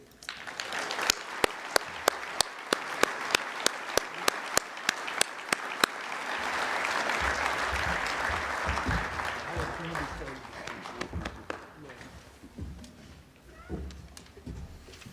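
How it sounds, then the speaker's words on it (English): An audience at a Hunt for Heroes event bursts into applause, first as sharp scattered claps and then a dense roaring wave that gradually fades, with someone speaking over the dying clapping. "Y'all should wait till I'm finished before you clap."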